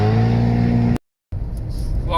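Steady engine drone and road roar inside a car cruising on the M23 motorway at about 50 mph, loud and continuous, cut by a brief total dropout before the hum returns.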